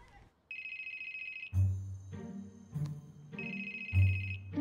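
A mobile phone rings in short electronic bursts, two ringing phrases separated by a gap, with a voice talking over and between them at close range.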